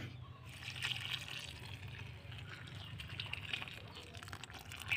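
Water poured onto a newly planted dragon fruit seedling in a rooftop garden, a steady soft trickle and splash lasting throughout, close and moderately quiet.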